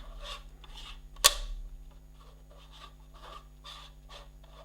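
A threaded ring being screwed into place, heard as a series of soft, close rasping scrapes from the turning threads with one sharp click partway through.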